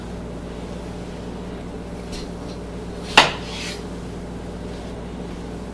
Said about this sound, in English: now what I'm going to do is slice it in half